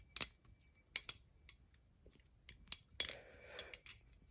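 A Maxace Covenant V2 balisong trainer with carbon fiber handles is flipped close up, giving sharp metallic clicks and ringing latch taps in quick irregular bursts, one with a brief tuning-fork-like ring, over quiet background.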